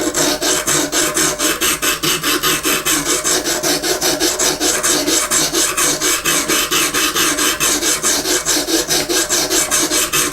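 A knife blade is drawn repeatedly across an oiled sharpening stone on an Exduct E0931D sharpening system, giving a loud, steady rasping stroke. The strokes come in a fast, even rhythm for the whole stretch, with no voices.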